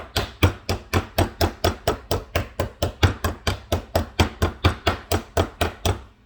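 Steady rhythmic pounding, about three sharp thuds per second, each a hard crunching whack of a meat tenderizer hammer crushing candy canes close by, repeated evenly with no talking.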